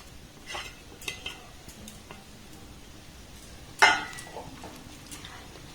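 A spoon scrapes and clinks in a pan while fried dry fruits are mixed into a sugar-free semolina laddu mixture, with scattered soft stirring sounds, a faint background sizzle and one sharper metallic knock.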